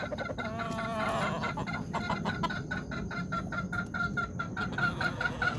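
Chickens cluck close by, including hens near laying age, with a rapid run of short, repeated clucks and calls over a constant low background hum.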